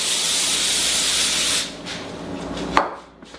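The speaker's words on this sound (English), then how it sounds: "Now I'm going to take some PAM spray" A PAM cooking spray can hisses in a long steady burst, then stops, followed by a few quieter clicks and rustles nearby.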